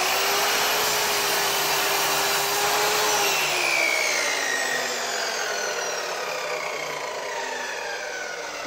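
An Einhell TC-SM 2531/1 U sliding mitre saw makes a straight crosscut through clamped wood at 0 degrees, a loud steady high whine that holds for the whole stretch with its pitch slowly sinking as the blade works through the cut.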